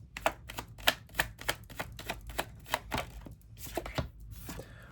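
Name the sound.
shuffling and pulling a tarot card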